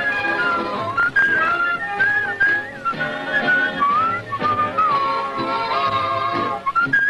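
A melodic whistled tune with gliding, warbling notes over a busy musical backing, steady and loud throughout.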